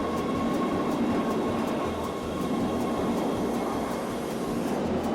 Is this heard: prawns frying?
no